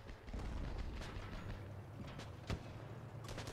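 Artillery shells landing in Armored Battle Crew: distant, muffled booms, one sharper impact standing out amid a low rumbling battlefield backdrop, fairly faint overall.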